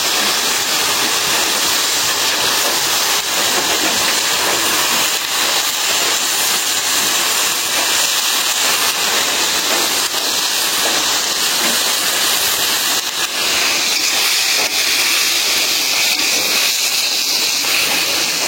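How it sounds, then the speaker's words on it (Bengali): Potatoes dropped into hot oil with spices that were fried until the oil separated, giving a loud, steady, broadband sizzle that runs without a break and without talk. "এখন ঝুড়ি করে আলুগুলো দিয়ে দিই, একদম ঝুড়ি করে দিই।"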